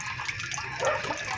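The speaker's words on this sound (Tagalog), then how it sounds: "Habang tumataas ang tubig, pinupush niya yung floater niya." Water pours steadily into a tank fitted with a float valve, a continuous close rushing and splashing flow with no voices over it.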